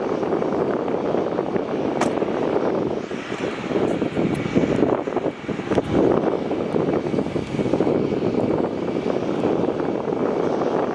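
An Airbus A350 jet roars steadily in the distance at Melbourne Airport, mixed with gusty wind noise buffeting the microphone.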